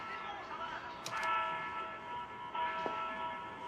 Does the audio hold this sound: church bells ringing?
yes